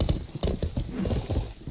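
Horse hooves clip-clop in a video game, a rapid, uneven run of muffled thuds that stays close and fairly loud the whole time, with no one speaking.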